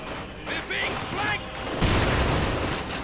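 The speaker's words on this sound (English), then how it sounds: "The rifle grenades going off." Rifle grenades explode in Company of Heroes 2, with loud, rumbling blasts layered over constant battle noise. The biggest burst lands near the end and lingers as a heavy roar.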